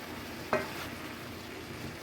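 A spoon stirs jarred sauce into a zucchini casserole over a faint hiss, with one quick clack of utensil against the pan and a soft scrape at the end.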